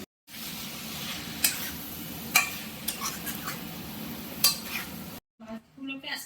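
Potatoes sautéing with spice paste in a pan for boal fish curry: a low sizzle broken by metallic spoon clinks and scrapes against the pot. It ends with a brief moment of speech.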